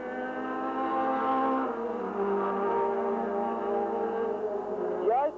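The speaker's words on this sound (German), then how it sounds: "BMW 2002 Schnitzer Turbo" BMW racing cars, including a 2002 Schnitzer Turbo, drone past at the 1977 Norisring race, a sustained high engine whine that shifts pitch as a car passes, under a commentator's voice.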